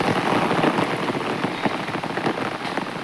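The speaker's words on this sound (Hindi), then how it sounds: "बाहर बहुत ज़्यादा बारिश हुई है" Heavy rain falls outside in a dense, continuous patter of drops striking surfaces, close and steady with small irregular bursts.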